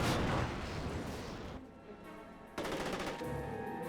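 Heavy gunfire and blasts from a Company of Heroes battle as units shoot apart a destroyed Panther tank wreck, with loud dense bursts at the start, a quieter lull, then another strong burst of fire.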